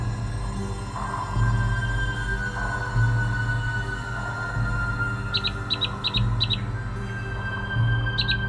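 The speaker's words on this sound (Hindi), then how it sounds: "ये तो कोई एग्जॉटिक सी बर्ड लग रही है मुझे।" An exotic bird gives short, sharp chirping calls in quick clusters, fairly faint over a steady low background hum, repeated a few times near the end.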